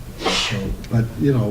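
Someone in a school committee meeting gives a single sharp sneeze near the start, followed by people talking over the room.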